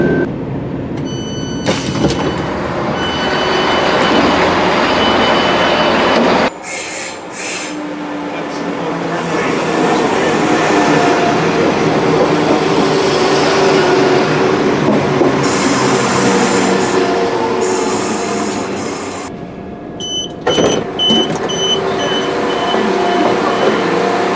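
A West Midlands Railway passenger train rumbles steadily along with rattling carriages and a loud interior hum, doors sliding and clunking at a couple of points.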